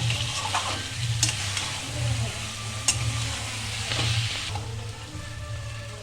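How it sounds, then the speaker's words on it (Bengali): Fried fish head is stir-fried with spices in a pan for a Bengali cabbage curry, giving a close, continuous sizzle broken by repeated scraping strokes of a spatula against the pan. "দিয়ে এই মশলার সাথে একটু কষিয়ে নেব।"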